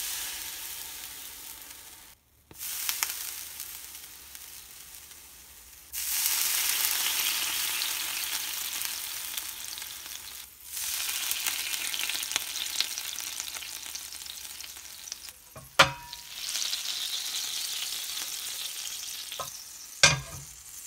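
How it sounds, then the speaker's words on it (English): Water hits a hot pan and bursts into loud hissing sizzles that crackle steadily, with sharp pops and a few clanks of a utensil. "some cool sizzle sounds to be used in this piece"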